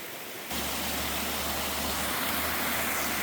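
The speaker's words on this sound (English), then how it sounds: "You see all this water just kind of pouring right out of this hillside over here." Water pours from a mossy hillside spring as a small waterfall, starting abruptly and then running as a steady, full rushing hiss that stays loud and close throughout.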